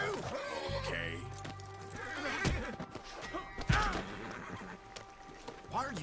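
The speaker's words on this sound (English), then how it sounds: "What are you beating the horse, mister?" A horse in Red Dead Redemption 2 lets out loud whinnies and snorts, with hoof thuds and clip-clop under raised voices, in a scene where a man is beating the horse.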